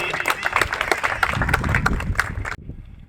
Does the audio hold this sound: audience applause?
yes